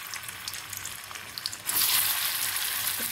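Paneer cubes dropped into hot oil to shallow fry, a crackling sizzle that swells suddenly into a loud steady hiss partway through, close by with no voices.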